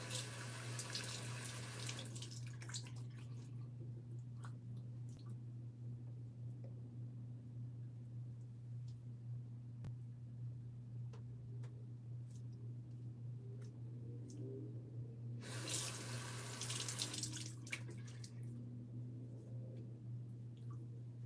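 A tap in Florida runs water into a sink in two loud gushing bursts, one at the start and one near the end, with a steady low hum throughout.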